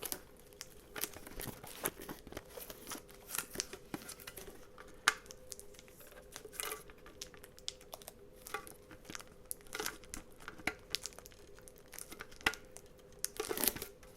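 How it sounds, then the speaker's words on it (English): Thick plastic wrapping is pulled off a Pokémon Team Rocket's Mewtwo ex tin box, making quiet, close, irregular crinkles and short tearing bursts with brief pauses. "Let's open this bad boy up. It's really thick plastic."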